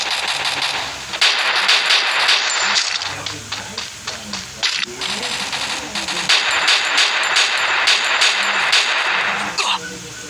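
Gunfire from the video game Free Fire, with sniper shots among it, cracks in repeated bursts of varying loudness over a noisy hiss, while a voice talks over the action.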